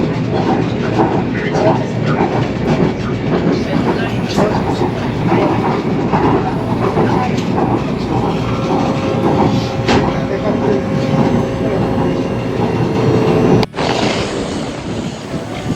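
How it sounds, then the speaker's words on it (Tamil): Loud, continuous rumble of a metro train in motion in Busan, South Korea, steady throughout with faint rattles, a sharp clunk near the end, and muffled voices underneath. "So this the metro station."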